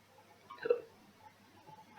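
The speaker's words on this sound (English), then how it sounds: "And now I've got hiccups." One short, sharp hiccup sounds once, close and fairly quiet, in an otherwise still indoor room.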